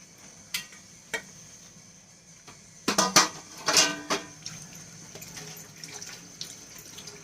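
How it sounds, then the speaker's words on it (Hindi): Dishes and utensils washed under a running kitchen tap in a home kitchen, with a few clinks early, then a louder burst of splashing and clattering pots before water keeps running steadily. "तो मैं फटाफट से सबसे पहले बर्तन कर लेती।"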